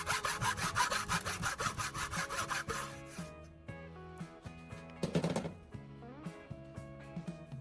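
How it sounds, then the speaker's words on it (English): A hacksaw cuts a slot into a wooden knife handle in quick, regular back-and-forth strokes, loud and close, then stops and leaves scattered faint knocks, with one short burst of sawing afterward. "Using a hacksaw, I'm carefully cutting along the line I marked."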